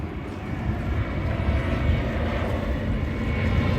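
A propeller airplane passes over a summer beach in Croatia, a broad steady engine drone that builds slightly in loudness across the moment, with no talking heard.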